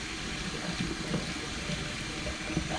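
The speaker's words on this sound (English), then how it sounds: "So I'm going to turn on the water." Tap water runs in a quiet, steady stream, a soft continuous hiss with faint splashing and no voices.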